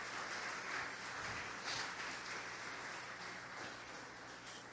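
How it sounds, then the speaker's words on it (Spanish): A church congregation applauds during a sermon, a steady, faint wash of many hands clapping, distant and even throughout, with a low electrical hum beneath and no speech. "denle un aplauso al Señor."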